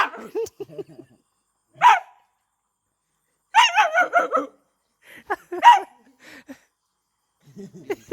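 A dog barks in scattered bursts, a few single yips and then a quick run of barks, close and fairly loud with quiet gaps between.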